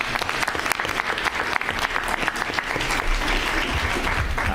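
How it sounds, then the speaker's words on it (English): At a school board meeting, an audience applauds the newly crowned Miss Juneteenth 2024, a sustained, fairly distant wash of clapping from a roomful of people with no break. "a big round of applause for Miss Destiny."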